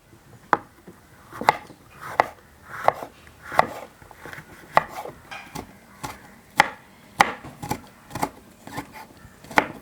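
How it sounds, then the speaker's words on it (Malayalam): A knife chops through slippery passion fruit on a board in a Kerala-style kitchen, giving a steady series of sharp, close taps spaced roughly every half second with no talk. "നമുക്കിത് വേഗം ചെറുതാക്കി അരിഞ്ഞെടുക്കണം"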